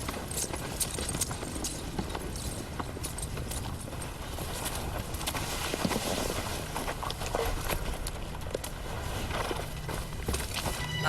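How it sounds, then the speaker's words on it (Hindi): Horses carrying riders approach at a steady walk, their hooves clip-clopping loudly and continuously with dense, overlapping strikes throughout. "कुछ घोड़े सवार इस तरफ आ रहे हैं।"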